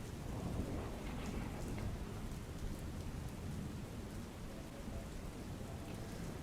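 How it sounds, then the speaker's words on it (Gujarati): Steady heavy rain pours down in western Ahmedabad with a dense hiss, and low rumbles of thunder roll beneath it; no voices. "પશ્ચિમ વિસ્તારમાં પણ અત્યારે હાલ વરસાદ જોવા મળી રહ્યો છે"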